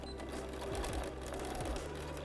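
A sewing machine back stitches through a penguin play mat with batting, a steady, close motor whir with a rapid needle chatter, fairly quiet and alone.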